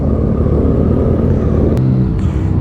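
A McLaren supercar passes with a loud, steady engine rumble that holds throughout, with a brief sharp click partway through and no talking.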